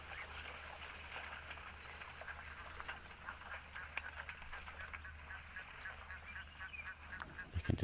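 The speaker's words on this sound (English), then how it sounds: "You can just hear the Egyptian geese also being rather vocal at the moment." Egyptian geese honking at a distance in an outdoor wildlife setting, faint repeated calls over a steady low background hum.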